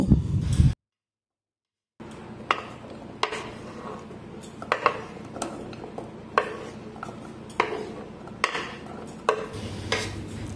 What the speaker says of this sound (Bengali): এবার আমটাকে আমি প্যানের মধ্যে দিয়ে দিব।